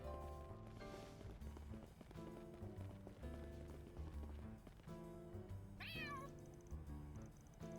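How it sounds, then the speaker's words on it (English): A little grey cat meows in the video game Trails Through Daybreak 2, a short plaintive cry rising over a steady bed of game music. "Isn't it a little grey cat the same one from Old Town? Kinda sounds like she's got the blues."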